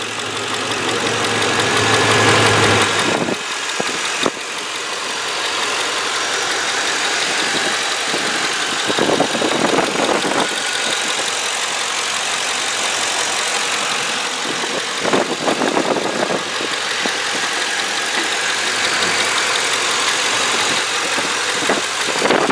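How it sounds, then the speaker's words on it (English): A 2005 Ford Explorer 4X4 engine idles steadily and evenly, a continuous close mechanical hum with faint ticking and a few brief knocks, no voices over it. "let you listen to the motor"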